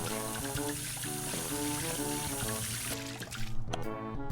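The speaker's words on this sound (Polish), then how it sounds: "Wsadzam wiadro, nalewam no wodę." Water poured steadily from a tap into a bucket, a continuous close filling rush lasting several seconds over a tonal background of music.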